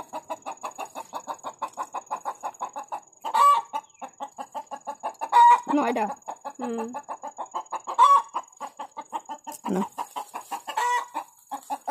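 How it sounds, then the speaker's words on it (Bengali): A hen clucks steadily after laying eggs on the ground in a garden, her rapid repeated clucks running throughout, broken by several louder squawking bursts. A faint steady tone sits in the background. "দেখেছো আমাদের মুরগি কোথায় কোথায় ডিম দেয়।"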